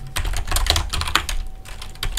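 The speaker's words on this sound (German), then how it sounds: "Bisschen Tastatur-ASMR ist heute auch noch mit drin." Computer keyboard typing on its own, a steady run of close, crisp keystrokes with a few slightly louder taps, no voices.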